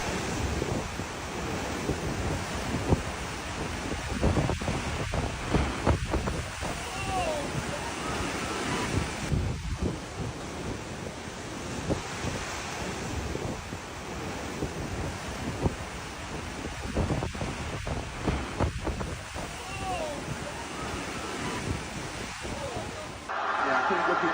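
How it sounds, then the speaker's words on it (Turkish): Giant Atlantic waves pound a Portuguese beach with a continuous loud roar of surf and repeated crashing bursts, heavy wind buffeting the microphone throughout. "Portekiz'in plajları dev dalgalarla her zaman etkileyicidir."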